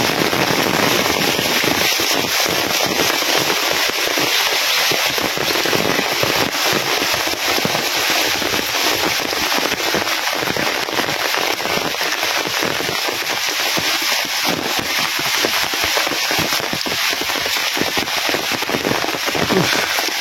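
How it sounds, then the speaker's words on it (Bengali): Driving rain and strong wind roar loud and unbroken over dry fields outdoors, a steady hissing downpour with occasional gusts and no pause. "কি প্রচন্ড বেগে বৃষ্টি হইতেছে আর সাথে বাতাস"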